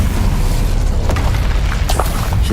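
Incendio fire spell cast in the Hogwarts Legacy video game: a loud, dense roar of flame with a few sharp bursts near the end, sustained throughout.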